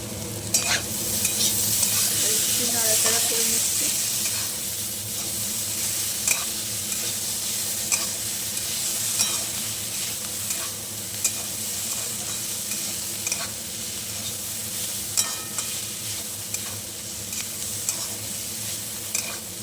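Ground poppy seed paste is stirred and fried together with beans in a pan, a continuous close sizzle broken by frequent scraping strokes of the spoon throughout, with no voices.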